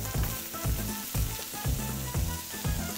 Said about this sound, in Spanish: Vamos a echar la cebolla,